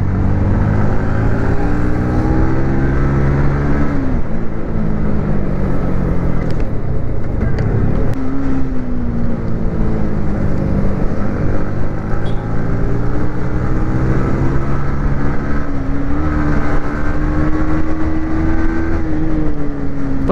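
A motorcycle engine heard while riding on an open road, a continuous loud drone with rising and falling pitch as the rider speeds up and eases off, heavy wind noise throughout.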